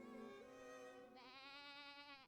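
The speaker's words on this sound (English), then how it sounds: "As the unlucky girl stared at the black goat, it let out a desperate cry." A black goat in the video game Rule of Rose lets out a long, desperate bleating cry that wavers and rises in pitch partway through, heard alone and very faint.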